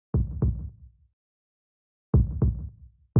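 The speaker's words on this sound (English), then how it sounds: "Am I alive? I hear a heartbeat." A heartbeat sound effect in the Tsukihime visual novel game: two pairs of deep, thudding double beats, close and clear, separated by about a second of silence.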